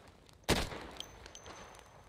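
A single sharp gunshot in the zombie survival video game Project Zomboid, loud and close, followed by faint scattered clicks and a decaying tail, with no voices.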